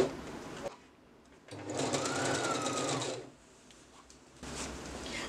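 A sewing machine stitches a garment seam in one steady, close burst of about a second and a half, starting and stopping cleanly, with quiet pauses before and after and a brief return of the motor near the end.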